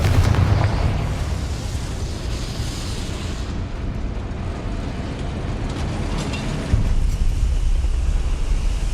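A Confringo fire spell bursts in Hogwarts Legacy with a loud, roaring blast that fades into a rumbling wash of noise, followed by a second dull thump near the end.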